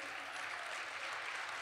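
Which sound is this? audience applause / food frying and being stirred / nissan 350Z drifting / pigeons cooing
audience applause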